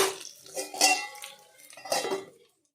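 A metal lid clanks onto a cooking pot of frying pork with potatoes, two bright rattling clinks of metal close by before the sound cuts to silence.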